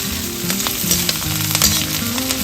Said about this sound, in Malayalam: അതിനകത്തോട്ട് കുറച്ച് കറിവേപ്പിലയും കൂടി ഇട്ടൊന്ന് മിക്സാക്കും.